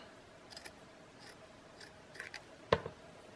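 Scissors snipping lace while trimming a journal embellishment, several quiet separate cuts ending in one sharper, louder snip, close up in a still room.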